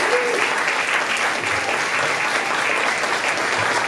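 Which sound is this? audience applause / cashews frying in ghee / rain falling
audience applause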